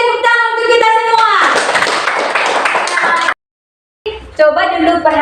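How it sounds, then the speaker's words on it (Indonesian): A class of children claps their hands together in a loud, close burst lasting about two seconds, set between children's voices speaking or chanting in the room. "tepuk tangan untuk kita semua."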